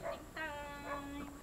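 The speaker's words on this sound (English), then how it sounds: "There's a dog." A stray dog heard while out at a store in the Philippines lets out several high, wavering whimpering whines in short bursts, close and moderately loud, with faint background noise and no talk.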